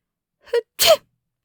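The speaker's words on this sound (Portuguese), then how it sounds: "O segundo homem espirrou para atrair a atenção do monge" A man sneezes once, a short intake followed by a sharp, loud burst, with silence around it.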